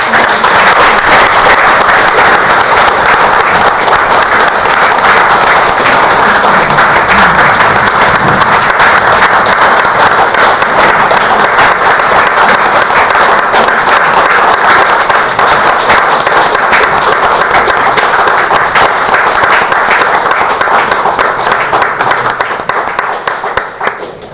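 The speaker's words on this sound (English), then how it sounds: "give you a round of applause" Sustained audience applause for speaker Victoria Britton at a gathering, loud and dense, many hands clapping steadily for over twenty seconds before tapering off at the end.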